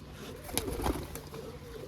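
Flying pigeons kept inside a net enclosure coo softly in a few low, brief calls, moderately near against a steady background hum, with no voices.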